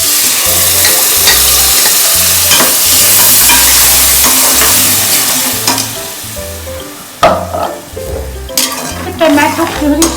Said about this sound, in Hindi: टमाटो प्यूरी मसाले में अच्छा सा तेल में तलेगी।